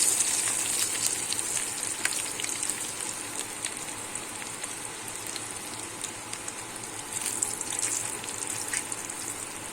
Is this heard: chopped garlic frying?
yes